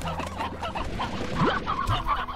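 Hens cluck in a farm pen in the video game Slime Rancher, giving short repeated clucks and squawks over a busy background of game sounds at moderate volume.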